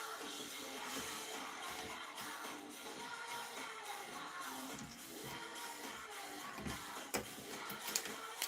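A printer runs quietly with a faint, continuous mechanical whir and soft, irregular clicks near the end, heard at low level with no talk.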